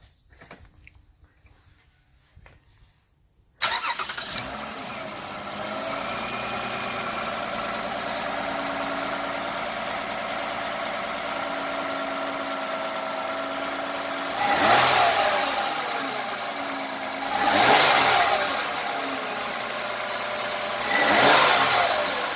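A Toyota Camry engine cranks and catches after a brief near-silence, then idles steadily, with three loud revs rising and falling near the end.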